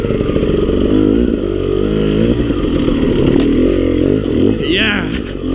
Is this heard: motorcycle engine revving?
yes